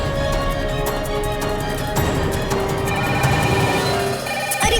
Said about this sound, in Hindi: ये तो होटल का फोन है, बजने दो।